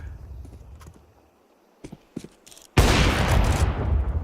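Counter-Strike gunshots at a live esports match: a few sparse sharp cracks, then a sudden loud sustained burst of fire and blast noise that fades.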